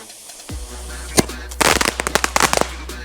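A series of sharp bangs and crackles from a firework tube bursting in quick succession, loud and close, with a low steady hum running underneath.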